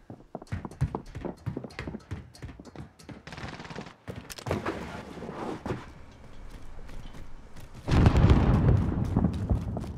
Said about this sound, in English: That's impressive shooting out here